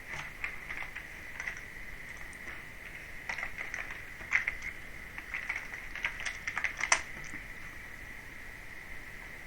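Computer keyboard typing while setting a crosshair in CS:GO, soft scattered key taps in short irregular bursts over a steady electronic whine, fairly quiet and close.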